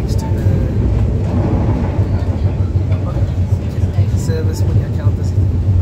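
A traditional Indonesian passenger train travelling from Bandung toward Yogyakarta, heard from a seat inside as a steady low rumble and rattle with faint rhythmic clacks, loud and continuous.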